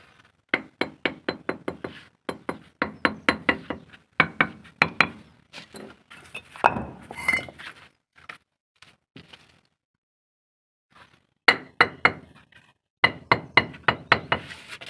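Bricks for the top course of a staircase step being knocked firmly into place, a run of sharp, rhythmic hard taps in quick bursts with short pauses between, close and clear with no talk.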